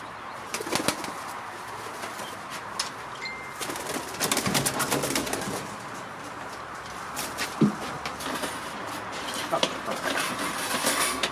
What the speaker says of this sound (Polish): Teraz przyjmujemy gołębie od Marka Stawarskiego i Michała Stawarskiego